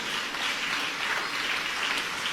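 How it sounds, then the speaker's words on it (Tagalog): A church congregation at a preaching service claps continuously, a dense, steady wash of applause heard at moderate distance with no voices on top. "Talagang pumapalakpak ng nagmumula sa ating puso."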